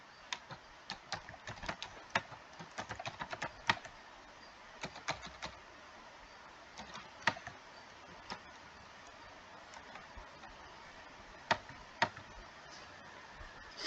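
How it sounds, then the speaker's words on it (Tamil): Keystrokes on a computer keyboard as an address is entered into billing software, with quiet, close clicks arriving in quick irregular bursts and pauses throughout, with no talk. "இல்லைன்னா பிளாங்காக விட்டுட்டு அட்ரஸ் டைப் பண்ணிக்கங்க."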